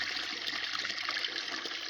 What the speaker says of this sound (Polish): Mamy jedną studnię i woda z niej się leje mniej więcej tak.